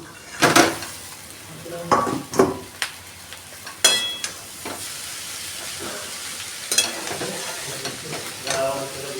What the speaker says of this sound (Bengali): গ্যাসটাকে বাড়িয়ে দিয়ে আমি চাউমিনটাকে ভালো করে ভেজে নিচ্ছি।